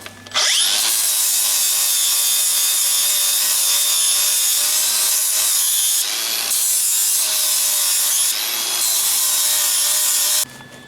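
A power grinder runs loud and continuous on a steel truss being fitted to a Jeep TJ, with brief dips in pitch as the disc bites into the metal before it cuts off near the end.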